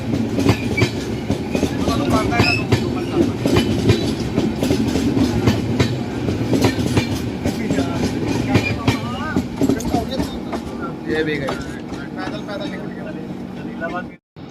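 A Garib Rath express train runs at speed with continuous rumbling and rhythmic clickety-clack of wheels over rail joints, loud and close, with voices talking underneath.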